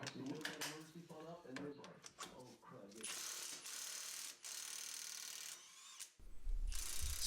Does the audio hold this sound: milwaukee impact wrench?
yes